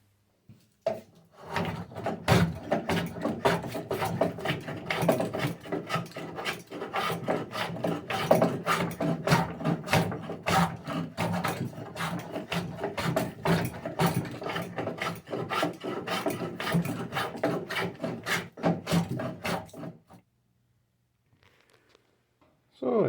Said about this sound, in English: So I think we finished planing this piece down.